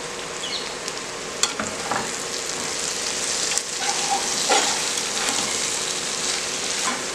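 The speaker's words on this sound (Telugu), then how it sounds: "ఇప్పుడు మనం దీన్ని ఇలాగా బాగా కలిపేసుకుందాము." Elephant foot yam curry is stirred and mashed in a hot pan, giving a steady sizzle with scraping ladle strokes and soft squelches, close by and with no talking.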